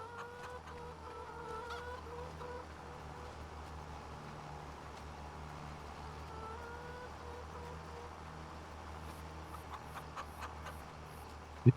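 Quiet, intermittent chicken clucks from a Farming Simulator 25 farm sit faintly over a steady low engine-like drone, with a sharp click at the end.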